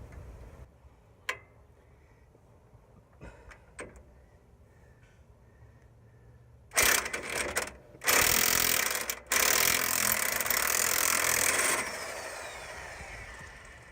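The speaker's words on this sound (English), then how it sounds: "I had to use my impact gun there" On a Ford F-250 front end, an impact gun with a 21 mm socket breaks loose a stuck shock absorber nut: faint ticks and clicks at first, then loud, close hammering bursts in several stretches before fading.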